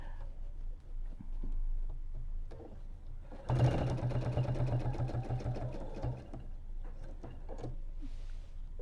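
A sewing machine quilting around a patchwork triangle block, running in a steady rapid mechanical rhythm for a few seconds, close and fairly loud, with quieter handling sounds before and after.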